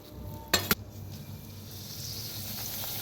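Karanji pastries deep frying in hot oil, a steady close sizzle running throughout, with two sharp metallic clinks of a utensil near the start and no talking.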